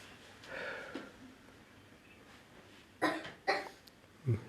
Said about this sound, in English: Baby's coughing.